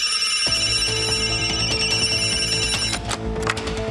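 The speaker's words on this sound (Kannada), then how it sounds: "ಅಯ್ಯೋ, ಫೋನ್ ಎತ್ತಿ ಸರ್." A telephone rings continuously and loudly in a bright, metallic electronic trill, starting half a second in and sounding alone with no voices.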